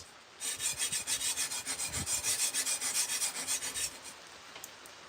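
Rapid, rhythmic strokes of sharpening along a sword blade form a close, gritty rasping train for about three and a half seconds, then stop, leaving near silence with a couple of faint ticks.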